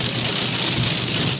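Hail pelts a 2001 Mustang Cobra SVT driving west on the 10 freeway in a storm, a dense, loud, unbroken patter drumming on the car body with no voices.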